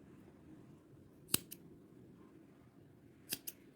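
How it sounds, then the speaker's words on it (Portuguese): Scissors snip excess yarn from an amigurumi crochet butterfly napkin holder, two sharp close cuts about two seconds apart over faint room quiet. "agora, eu vou cortar este excesso."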